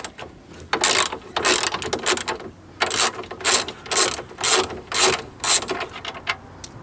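A ratchet spanner clicks in rapid repeated bursts while undoing bolts on a Vauxhall Astra VXR during an intercooler install, close and loud with brief pauses between strokes.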